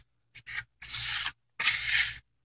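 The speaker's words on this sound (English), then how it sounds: "This is a pool trowel. It's flexible." A flexible pool trowel smooths ferrocement in rasping scraping strokes: two short swipes followed by two longer, even sweeps with brief pauses between them, close and alone.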